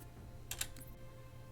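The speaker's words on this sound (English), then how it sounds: "I like how I asked if I use keyboard on my Xbox now." A few soft, quick keystrokes on a computer keyboard used with an Xbox, faint and close, in a short burst over low background hum.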